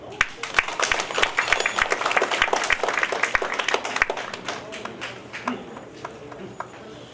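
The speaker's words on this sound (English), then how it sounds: "Please give him a warm round of applause, Dr. Herbert J. Wooler." An audience at a global conferment ceremony claps, with loud close hand claps over a broad crowd patter that gradually thins and fades toward the end.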